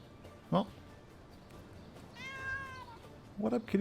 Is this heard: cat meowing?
yes